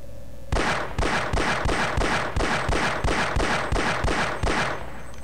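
Eleven pistol shots ring out in a quick, even rhythm at a Marine in the video game Half-Life, each report sharp and loud, with no talking.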